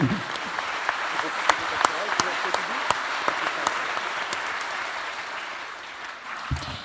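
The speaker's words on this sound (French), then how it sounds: "sa directrice, Virginie Larousse, que nous pouvons applaudir" An audience at a colloquium in France claps steadily, a full room of applause with sharp individual claps standing out, sustained and then tapering slightly.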